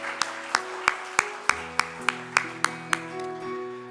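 A church congregation claps in welcome during a Korean worship service, about a dozen evenly spaced unison claps in a steady rhythm over sustained organ or keyboard chords.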